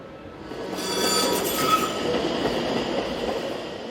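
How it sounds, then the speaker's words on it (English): A meter gauge electric multiple unit on a Solothurn–Langenthal service pulls in with a steady rolling rumble and a thin high wheel squeal. The sound swells after the first second and holds at moderate loudness, with no voices. "Arriving soon after is a meter gauge electric unit on a service from Solothurn to Langenthal"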